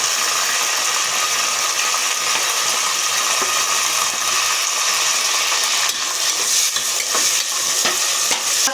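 Tomatoes fry for a meal maker vegetable biryani in a loud, continuous sizzle. A few scraping stir strokes and clicks come toward the end, and no one speaks.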